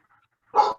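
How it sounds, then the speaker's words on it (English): A dog barks loudly and close by in a short burst after near silence, with a second bark starting just as it ends. "Because that's all you hear is him barking."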